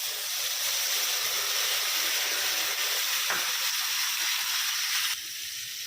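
Garlic and chili paste with Kashmiri chili powder and turmeric hits hot oil in a pan, giving a loud, continuous sizzle and hiss that eases slightly just before the end.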